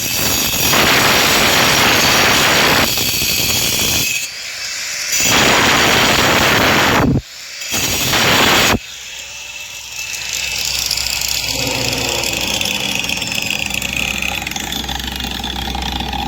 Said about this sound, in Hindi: तो दोस्तों इस वाले ब्लेड से हम इसको घिस भी सकते हैं। अब देखो ये, और हम इसको काट भी सकते हैं।